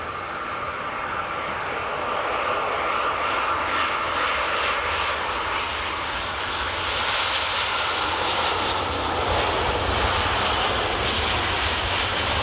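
A British Airways jet airliner in oneworld livery at Edinburgh Airport's runway 24, its engines a steady, loud broadband roar with a faint high whine, heard alone and rising slightly in the second half.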